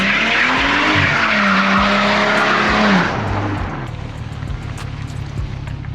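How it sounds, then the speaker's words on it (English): A V6 Ford Mustang's exhaust roars loudly as the engine climbs in pitch for about three seconds, then suddenly drops to a lower, rumbling idle with scattered pops and crackles. "we're going to leave you guys off with a little exhaust clip"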